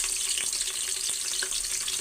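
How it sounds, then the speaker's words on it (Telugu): Sliced onions fry in hot oil in a pan for chicken biryani, giving a steady, close sizzle and crackle with soft pops, and no talking. "దీనిలోకి నేను వచ్చేసి ఆనియన్ వేస్తున్నాను"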